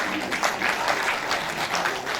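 An audience at a university technology conference claps in a short burst of brisk, fairly loud applause that carries on evenly without speech.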